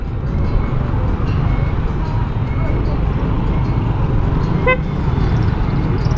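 A car horn gives a short toot in the middle of a busy street scene, over a constant low rumble of traffic and motor noise.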